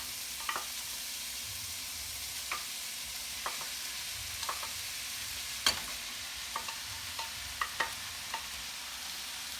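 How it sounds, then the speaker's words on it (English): Cold rice with vegetables and onions being stirred in a pan for teriyaki Spam fried rice, a soft steady sizzle broken by scattered utensil scrapes and taps, with no talking. "And you have to keep stirring to make sure the rice doesn't burn"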